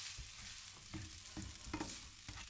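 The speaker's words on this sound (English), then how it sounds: "Just got back now and cooking some lovely Chinese food" Chinese food is stir-fried in a pan, with steady sizzling and a few scraping stirs of a utensil against the pan, close and fairly quiet, with no talking.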